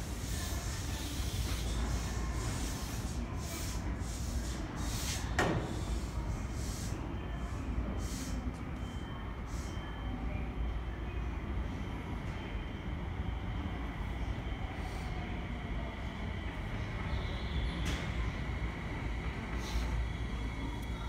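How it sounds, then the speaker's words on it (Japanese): A Tsukuba Express train pulling into a platform with screen barriers, a steady rumbling hiss of wheels and motors under continuous station ambience, with occasional clicks and chimes. "終点秋葉原までこの電車が先に到着いたします。"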